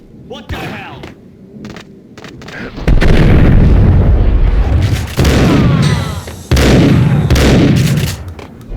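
Heavy booming blasts from the Max Payne video game, three loud explosions with rumbling tails after quieter, scattered thuds and clicks, no speech.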